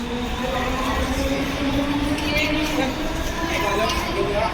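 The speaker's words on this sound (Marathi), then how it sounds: "बघा ट्रेन चालली" A train rolling past outdoors, heard as a steady, fairly loud rumble and rattle that fills the whole stretch, with people chattering nearby.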